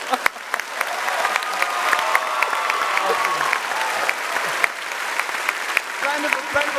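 Applause from a convention panel crowd at PAX West honoring a voice actor, sustained clapping across the room with sharp individual claps standing out, some cheering and voices mixed in.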